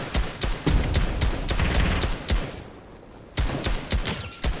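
Fortnite gunfire crackles in rapid, loud bursts of repeated shots, with a brief quieter lull before another volley erupts close by.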